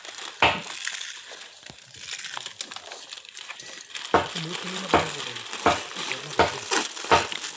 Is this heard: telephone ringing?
no